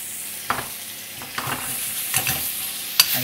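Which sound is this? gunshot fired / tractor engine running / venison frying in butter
venison frying in butter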